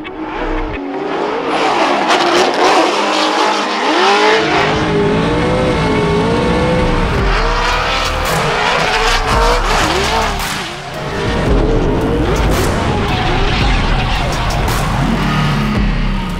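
A Formula Drift Prospec drift car revs hard and slides on skidding, squealing tires for the whole stretch, with the engine note rising and falling close by and barely a pause.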